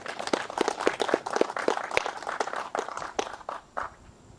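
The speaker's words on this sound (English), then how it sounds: "how about a round of applause for Flint Golf Club" Audience clapping at a Michigan PGA Championship ceremony for Flint Golf Club, a modest crowd of individual claps, fairly close and steady for a few seconds, alone without speech.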